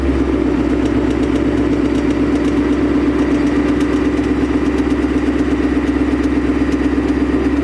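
A 2020 Mustang 5.0 with a 10-speed automatic idles steadily up close, a constant low engine drone with a faint rapid ticking running through it and no voices.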